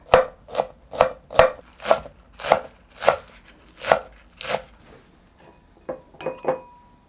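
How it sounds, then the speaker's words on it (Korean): A knife finely chops the white heads of spring onions on a cutting board, about ten sharp, evenly spaced thuds, then a short pause and a few lighter taps and clinks. "머리 부분은 먼저 좀 모아서 잘게 잘라주세요."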